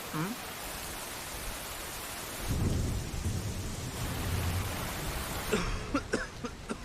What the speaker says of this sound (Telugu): దాసా అలా వానలో తడవద్దు, ఇలా రండి, టీ తాగుదురు గాని.